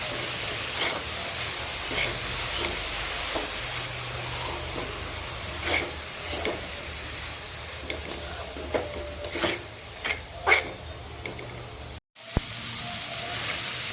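Dried fish and eggplant curry being stirred and mixed in a pan, a steady soft scraping and rubbing with faint sizzle, punctuated by a few brief clinks of the spoon, fairly quiet and close, with no talking.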